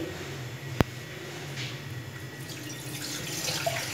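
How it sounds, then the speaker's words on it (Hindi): Water pours from a tap into a saucepan while making Turkish vegetable pasta, a steady close running-water stream lasting throughout, with a single sharp click near the start. "पानी ऐड कर लेती हूँ"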